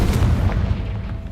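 An explosion spell blast in the Hogwarts Legacy video game: a loud, deep boom that hits right away and rumbles briefly before tapering off.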